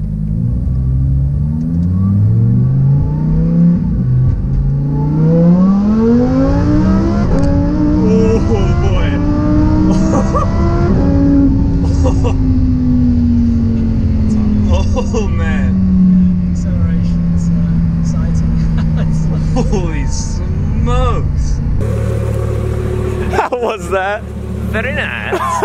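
A Lamborghini Performante with an 800-horsepower engine revs and accelerates in loud, sweeping rising pitches through the gears, then settles into a sustained drone before the sound cuts out near the end.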